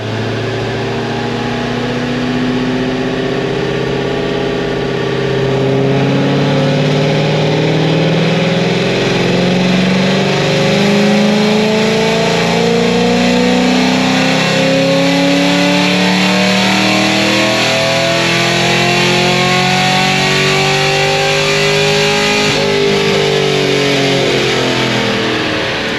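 A naturally aspirated LS7 V8 in a car on a dyno, revving up to about 5,900 rpm, with a loud continuous rising and falling engine drone and rumble held for a long stretch, no talking.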